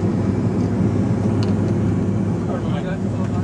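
A Fokker 50 turboprop cabin in flight: a continuous loud low engine drone and rumble fills the space with a steady airflow hiss, unbroken throughout.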